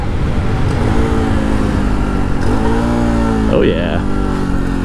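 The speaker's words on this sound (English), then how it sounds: "I've got the heel toe downshift on that one." Honda Trail 125 Hunter Cub engine running hard on backroads with a quick rev blip as it heel-toe downshifts, loud and close, with someone speaking briefly over it.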